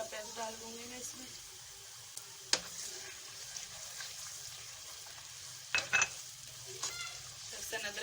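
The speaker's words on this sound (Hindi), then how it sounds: "लहसुन अदरक के साथ में थोड़ा भूनूंगी प्याज को।" Onion frying in a pan with garlic ginger paste for a green chicken karahi, a steady soft sizzle with occasional sharp stirring scrapes, close and fairly quiet, with a voice speaking over it.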